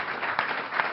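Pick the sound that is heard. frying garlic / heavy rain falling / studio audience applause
studio audience applause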